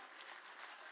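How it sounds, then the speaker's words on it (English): Applause at a charity benefit auction for children's aid: a short, steady wash of clapping from a crowd, faint and distant, with no voices over it. "All right, can we get a round of applause for those gifts?"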